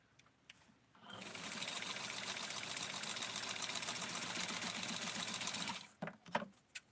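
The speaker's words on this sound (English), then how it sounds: "I'm going to tighten up my sewing here." A sewing machine stitches a Barbie wedding dress, running in one steady, fast, buzzing burst of about five seconds before stopping, with a few light clicks and handling noises before and after.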